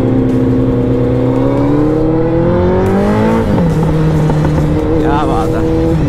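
A Suzuki Hayabusa motorcycle engine on a first ride, loud and close with steady droning tones that rise and shift as it revs and changes pitch, with someone talking over it.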